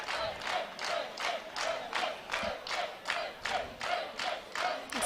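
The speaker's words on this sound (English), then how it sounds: "he's still gesturing to the Swedish audience, who's clapping and shouting" A Swedish crowd at a 3D archery championship final claps in a slow, even rhythm, about two beats per second, distant and roomy, with shouts mixed into the rhythmic clapping.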